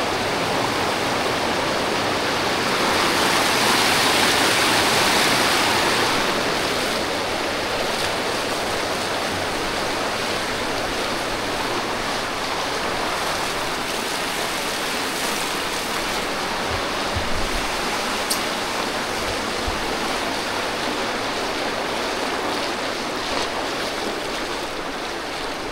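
The Polluru waterfall stream rushes in a continuous, loud broadband roar of flowing water that stays steady throughout, with no voices.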